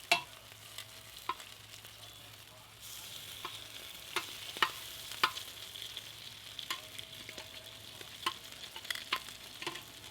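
Bacon sizzles steadily on a FIREDISC cooker outdoors on a warm Florida day, a constant frying hiss broken by sharp pops and crackles scattered throughout.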